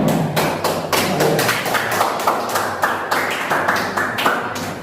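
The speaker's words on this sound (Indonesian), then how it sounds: "tepuk tangan dulu untuk kelompok 1" Classroom applause for a student group, a brief burst of uneven, hollow clapping and taps from a small crowd of pupils, close and fairly loud, lasting a few seconds.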